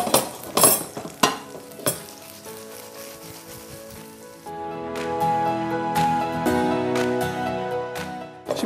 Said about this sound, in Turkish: Biraz kızardıktan sonra diğer tarafını çevireceğim. Şimdi bir süre daha kızartalım.